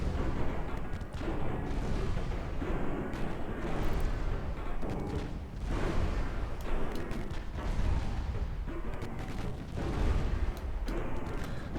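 Naval guns in a warship battle game boom repeatedly, with heavy shells striking a light cruiser's armour; a dense, loud, continuous barrage of thuds and blasts with no talking.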